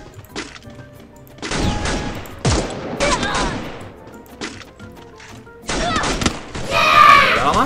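Gunfire in a video game: several loud, close bursts and single shots separated by short gaps, with crashing impacts and faint background voices.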